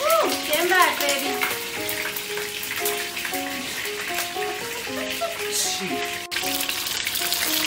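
Scallion bottoms sizzle and crackle steadily in hot oil in a home kitchen, a continuous close frying hiss that runs throughout while a voice speaks briefly over it.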